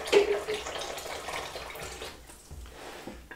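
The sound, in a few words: tap water running to get tepid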